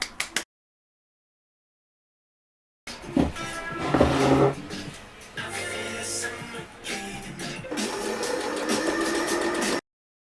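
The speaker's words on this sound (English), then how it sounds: "I sewed the lining and the jacket together" A home sewing machine stitches a jacket made from a thrifted sleeping bag to its lining, running in bursts of steady mechanical whirring after a short opening blip and a silent gap.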